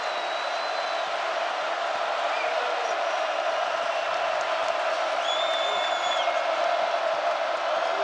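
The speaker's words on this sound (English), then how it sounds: "Hoiberg gets a breather and a round of applause" Crowd noise fills a basketball arena during an NCAA men's second-round game, a steady broad roar of applause and cheering with scattered whoops, continuous and enveloping.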